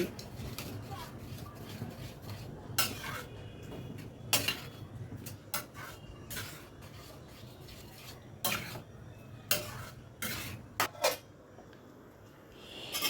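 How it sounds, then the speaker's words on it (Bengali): A spoon stirs dal tadka in a metal pot, with sharp intermittent scrapes and clinks against a soft simmering background, fairly close and not very loud. "সব কিছু আবারও ভালো করে মিশিয়ে নিচ্ছি।"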